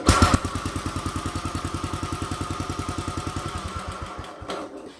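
A 1968 Sears Super 12 garden tractor engine starts and runs close by, a steady rapid single-cylinder putter that fades and sputters to a stop near the end.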